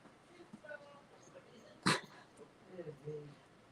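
Small dog in a protective cone, a clumsy female recovering from a broken leg, gives a brief sharp yelp after tumbling off a bed, one loud burst standing out among soft whines and faint background talk.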